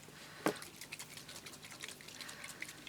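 Water trickles and gurgles into a spray bottle after a single sharp knock near the start, a soft continuous pour close by with small bubbling fluctuations and no talking.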